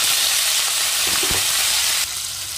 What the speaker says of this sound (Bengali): এখন এই তেলের মধ্যে চিংড়ি মাছটা ভেজে নেব।